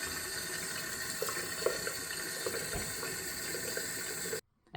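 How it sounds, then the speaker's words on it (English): Tap water running steadily into a sink while face wash is rinsed off the skin, a close continuous splashing that cuts off abruptly near the end. "I just rinsed it off"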